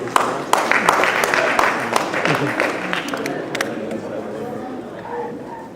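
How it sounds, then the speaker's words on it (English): An audience applauds as a sponsor of a women's tea event is welcomed to the stage, steady clapping with crowd chatter mixed in, fading gradually toward the end. "Please welcome him with a round of applause."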